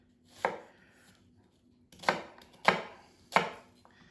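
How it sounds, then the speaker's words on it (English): An onion is roughly chopped with a knife on a board in a home kitchen: four separate dull chops, close and clear, with pauses between them and no talk. "So I'm just going to chop the onion very roughly."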